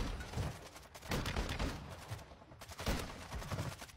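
A shotgun fires repeatedly in Modern Warfare 2, with several sharp, booming blasts in quick succession, fairly quiet overall.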